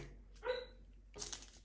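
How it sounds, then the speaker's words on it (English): A dog gives a couple of short, muffled barks or yips from somewhere indoors, faint and slightly distant, with a quiet gap between the two bursts. "She's starting to bark."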